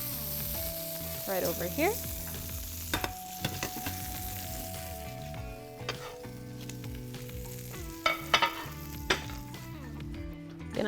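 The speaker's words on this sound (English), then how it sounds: "I'm gonna add our burger patty next" A burger patty sizzles and fries steadily in a hot pan, with scattered scraping and clatter of utensils over the continuous hiss, and brief talk heard at one point.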